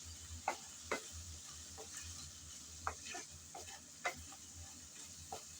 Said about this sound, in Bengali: আমি কিছুক্ষণ সময় ধরে নেড়ে চেড়ে ভালোভাবে মশলা কষিয়ে নিচ্ছি